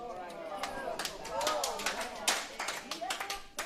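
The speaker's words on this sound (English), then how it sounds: "They're clapping their heads off next door in the Helensvale game" Applause drifts over from a neighbouring lawn bowls game, scattered hand claps rising and falling across a few seconds, partly under a commentator's voice.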